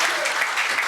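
Applause from a church congregation during a Wednesday worship service, a dense wash of clapping hands filling the whole moment, steady and fairly loud with no pauses.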